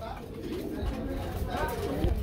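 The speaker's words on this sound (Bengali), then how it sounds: "খুব সুন্দর ভাই ব্ল্যাক কালার এক জোড়া নান কবুতর" A pair of black Nun pigeons coos close by, low throaty calls rising and falling under someone talking over them.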